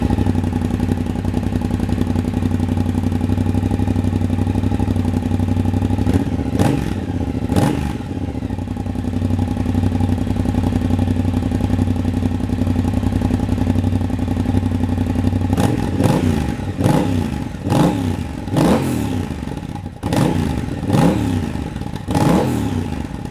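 Triumph Bobber motorcycle fitted with a TFC exhaust idles steadily up close, then blips through several sharp revs in two bursts, the second a rapid cluster of throttle stabs returning to idle.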